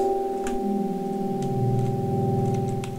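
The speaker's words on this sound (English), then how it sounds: "I'm sorry for that cave noise." A steady, droning video game cave ambience hum with layered low tones and a slowly sliding pitch, plus faint scattered clicks and chirps, continuous and fairly loud.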